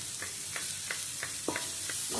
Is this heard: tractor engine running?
no